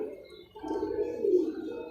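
Soft, low cooing of pigeons, a few throaty rolling calls close by, with faint background noise.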